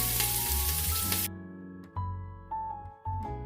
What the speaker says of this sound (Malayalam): ഇഞ്ചിയും വെളുത്തുള്ളിയൊക്കെ നല്ലതായിട്ട് മൂക്കുന്നുണ്ട്